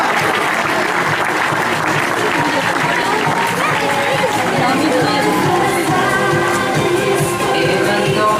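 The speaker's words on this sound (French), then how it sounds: "il ne peut être encouragé dans les applaudissements du public" A zoo audience applauding at an animal show, loud sustained clapping from a large crowd throughout, with some crowd chatter and a voice mixed in.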